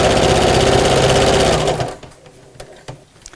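Powerful sewing machine running steadily over a thick seam of a Miss Messenger bag, loud close whirring that stops after about two seconds, followed by quiet handling clicks.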